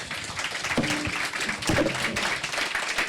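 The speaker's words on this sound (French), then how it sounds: "On peut leur applaudir tous les trois." Applause for three panelists at the close of a French round-table discussion on digital audio in communication strategy, a steady wash of clapping from an audience lasting the whole stretch, with no talk over it.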